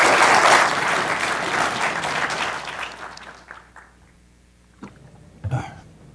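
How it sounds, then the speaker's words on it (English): An audience at a medical student research symposium applauds a presenter, the clapping loud at first and fading over a few seconds into quiet room noise with a brief cough or throat sound near the end. "round of applause for Robbie."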